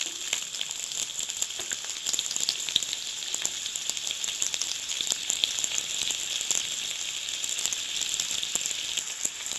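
Sliced onion frying in a few spoonfuls of hot oil in a kadhai on a gas stove, a steady, fairly quiet sizzle with fine crackling and occasional small pops, heard alone.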